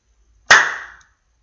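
A single sharp hand clap, loud and close, with a bright crack and a short decaying ring in a quiet room.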